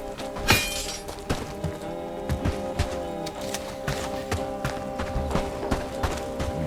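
A weapon strikes an armored enemy in the medieval game Bellwright, giving repeated sharp metallic clanks and thuds at an irregular rhythm over a faint ringing musical tone.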